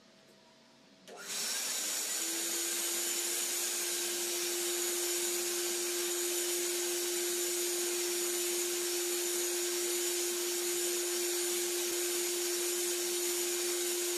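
Air is drawn in through an S-shaped nozzle: a loud, broad suction hiss starts abruptly after a quiet second, then holds steady with a constant tone running through it.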